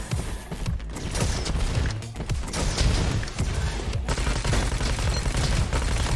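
Machine gun fire in the roguelite shooter Roboquest, heard as rapid, dense bursts of gunshots with crashes and booms mixed in. The firing is loud and close and continues almost without a break.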